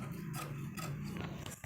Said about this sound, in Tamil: டக்கு டக்குன்னு கட் பண்ணி எடுத்துடலாம்